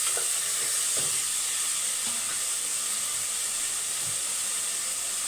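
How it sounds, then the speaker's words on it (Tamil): Onions and tomatoes frying in a pan for a Tamil biryani and meal spread, giving a steady close sizzle and hiss throughout with a few faint stirring knocks. "ஒரு எயிட்டி பர்சன்ட்டு வெங்காயம் வதங்கிடுச்சு தக்காளி மீடியம் சைஸ் தக்காளி ரெண்டு சேர்த்துருக்கேன்"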